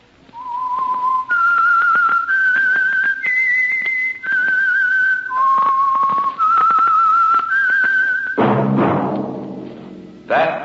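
A lone whistler carries the eerie theme tune of The Whistler radio show, a clear, close melody of sustained, gliding notes rising and falling, followed by a brief swell of orchestral music.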